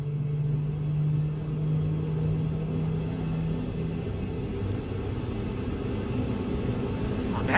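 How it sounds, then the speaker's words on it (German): An electric BR 112.1 locomotive pulls away on the Hamburg–Lübeck line in Train Sim World 2, heard as a steady low rumble with a faint humming tone early on and no speech. "Und dann rollt unser Zug jetzt los."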